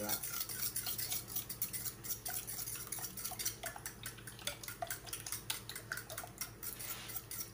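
Potato omelette mixture with milk, cheese, salt and pepper stirred in a bowl, a rapid run of light clinking utensil taps and scrapes, close but quiet, without talk.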